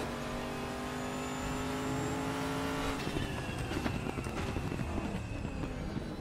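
The V8 of a GTR GT1 race car in the RaceRoom racing game sounds loud and droning. A steady high engine tone holds for about three seconds, then breaks into harsher rasping and popping with rapid rev changes.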